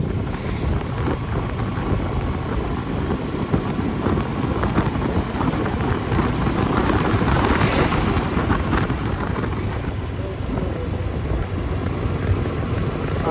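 Steady roaring wind buffets the microphone during a motorbike ride on roads near Panagarh, a loud continuous rush with engine rumble underneath and no voices.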